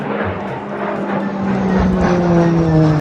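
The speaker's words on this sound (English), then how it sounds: "A for airplane." An airplane engine drones steadily for about three seconds, a loud sustained roar with a slowly falling pitch, as though the aircraft passes close by, with no voices.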